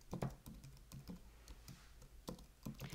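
Keys clack on a computer keyboard in short irregular bursts of taps, close but fairly quiet, with no talk.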